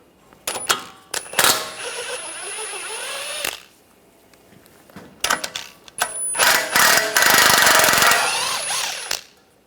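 Metal hammer taps on bolts during ball joint work on a 2009-2013 BMW 328i xDrive front suspension: sharp, ringing clanks in short bursts, some rapid strings of hits, with pauses between groups, loud and close.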